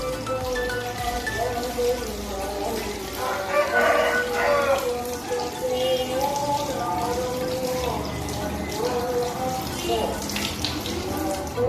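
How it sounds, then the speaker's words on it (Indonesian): Steady running tap water splashes loudly over hands being rinsed, a continuous close gush with shifting splatter as the hands move under the stream. "saya menggunakan air mengalir"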